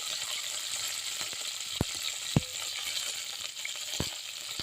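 Cinnamon, cloves, cumin and raw onion fry in oil in a pressure cooker with a steady, moderate sizzle, broken by a few sharp spoon knocks against the metal.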